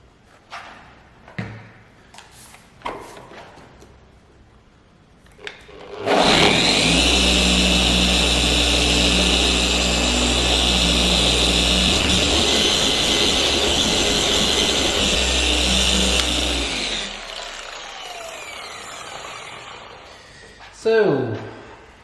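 A Rupes LHR21 Mark III random-orbit polisher works over car paint, its steady loud whirring drone holding for about ten seconds before winding down, with brief talk and handling noises before and after.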